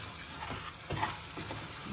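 Goat brain frying with mutton masala in a pan over low heat, a soft steady sizzle with faint stirring scrapes close by.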